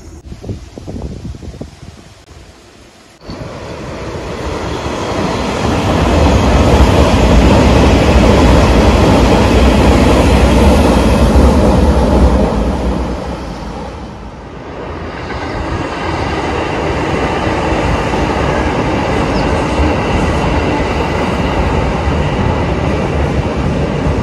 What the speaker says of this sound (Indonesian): Gue nungguin kereta api lah di sini.